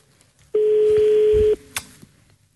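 A telephone line belonging to the city of Tetouan's urban commune gives a steady one-second tone, then a brief click as the call cuts off, with quiet room noise around it.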